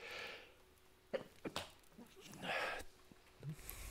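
A single faint sneeze in a quiet room, a short sharp burst of breath followed by soft breathing and rustling.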